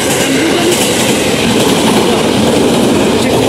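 A KRL commuter electric train rolls past at close range in Indonesia, a loud, steady roar of wheels and rail rumble with faint clickety-clack running through the whole stretch.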